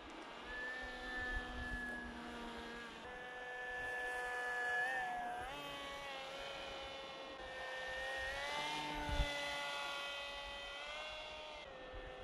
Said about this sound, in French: Parce que les avions FPV, ils sont quand même rapides.